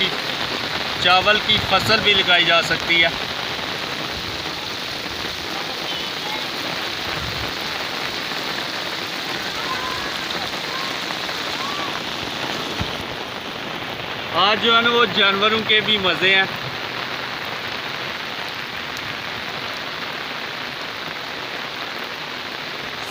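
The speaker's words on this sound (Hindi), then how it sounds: "इसी तरह तेज़ बारिश 2 से 4 घंटे होगी" Heavy rain falls steadily and loudly on the surroundings in an unbroken hiss, while someone talks over it twice.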